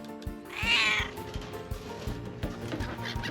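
A single drawn-out cat meow, close and clear, followed by soft thumps and rustling.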